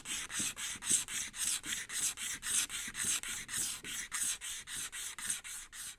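A blade scrapes gently across a plastic Topper daggerboard in a steady back-and-forth rhythm, about fifteen soft, close rasping strokes with no voices.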